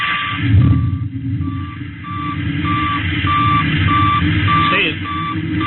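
A rocket engine ignition effect from a radio science-fiction drama: a continuous low, heavy roar with a steady high whine and intermittent beeping tones running through it, holding strong for the whole stretch.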